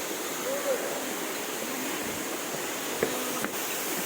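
Mantayupan Falls in Barili, Cebu, roars as a constant broad wash of falling water heard from a distance, with a faint brief tone and a couple of small knocks over it.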